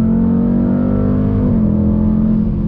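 A 2021 Dodge Durango SRT 392 V8 roars loudly under throttle, a steady deep engine drone with a slight pitch shift partway through, heard close with no talking.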